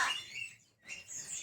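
A gagak gauk bird being sold by a bird dealer in Madura gives a pair of short, faint, high chirping calls separated by a brief pause, heard fairly close with no talking over them.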